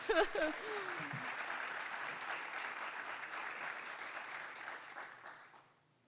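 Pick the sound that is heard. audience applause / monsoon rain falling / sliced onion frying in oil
audience applause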